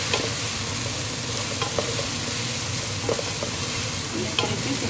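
A biryani mixture with whole spices cooks in a pot, hissing and sizzling continuously while a spoon stirs it with soft intermittent scrapes, close and fairly loud, no voices.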